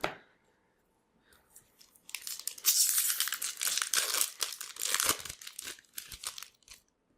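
A Magic: The Gathering Aether Revolt booster pack being torn open, with crisp foil crinkling and tearing that swells after a quiet start and continues in dense bursts, close and alone.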